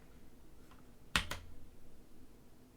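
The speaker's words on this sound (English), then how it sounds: "Press the key immediately to the left of the shift key on the right side of the keyboard." Two quick key presses on a Drop ALT mechanical keyboard make sharp close clacks in rapid succession, with quiet room tone before and after.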